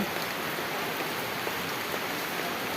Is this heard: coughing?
no